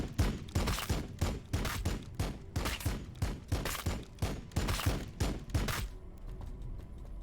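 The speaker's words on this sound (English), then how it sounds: "Firing on the enemy." Rapid gunfire volley in the Warhammer 40000 Battlesector strategy game, a dense run of loud, evenly spaced shots lasting several seconds before cutting off to quiet background.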